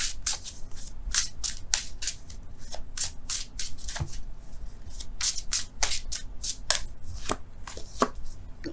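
Tarot cards being shuffled and handled by hand, a run of quick crisp riffling snaps and soft slaps coming in bursts, close and fairly clear with no talk.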